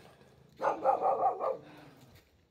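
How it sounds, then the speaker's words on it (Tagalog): A village dog barks several times in a quick run of four or five barks, moderately near and fairly loud. The barking then trails off into quiet outdoor background with no talk. "Tumatahol yung aso ng baak."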